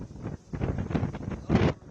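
Strong coastal wind in Tamil Nadu during Cyclone Ditwah buffets the microphone in loud, close gusts, rumbling and roaring in uneven bursts.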